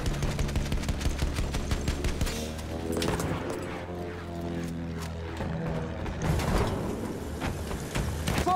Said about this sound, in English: Das sind Flugabwehrgeschütze.